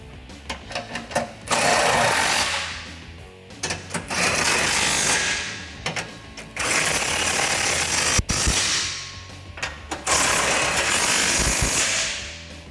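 A ratchet with a 13 mm socket tightens exhaust nuts on a Jeep Gladiator JT during a Borla ATAK dual exhaust install, giving close, loud bursts of rapid clicking separated by short pauses.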